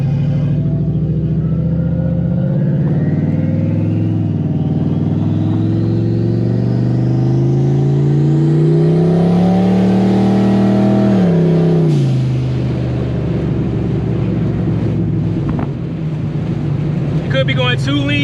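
A turbocharged Ford Mustang running rich on a city drive, its loud engine revving up and climbing in pitch for several seconds before the note drops sharply as it stumbles, then settles into a steady rumble with talk over it.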